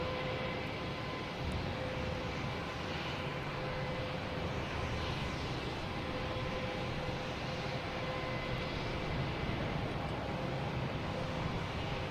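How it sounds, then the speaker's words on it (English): A Delta Embraer E175 jet from Savannah comes in to land at Boston Logan airport, a faint, steady, distant engine drone with a low rumble and a few faint whining tones. "next coming in, we have a Delta E175 coming in from Savannah"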